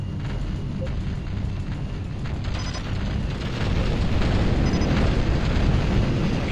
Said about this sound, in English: They are using swarm rockets,